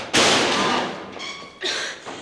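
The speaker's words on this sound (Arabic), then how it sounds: "ليش خبطت الباب خبط؟" A door slammed hard in a scene from a comedy TV series: a sudden loud bang with a ringing decay, followed by a second, softer knock about a second and a half later.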